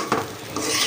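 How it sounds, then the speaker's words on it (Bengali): Polao rice frying in a karahi, stirred with a utensil that scrapes and clinks against the pan under a soft, steady sizzle, close and continuous without talk. "আমার পোলাও চালটা এখানে ভাজা হচ্ছে"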